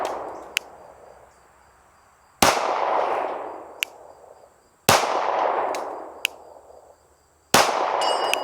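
Loud pistol shots boom and echo away, with sharp, thin metallic pings of rounds striking a steel target between them, outdoors with no talking.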